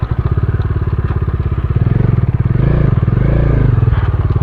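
Bajaj Dominar motorcycle engine idling on a canal-side road, a steady close, loud pulsing thrum with a rougher surge midway, no talk over it.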